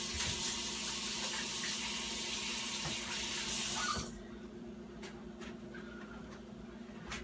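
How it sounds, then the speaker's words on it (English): Kitchen faucet runs steadily for hands being washed while cooking soul food, a loud, close hiss of splashing water that cuts off after about four seconds, leaving faint handling clatter. "let me wash my hands"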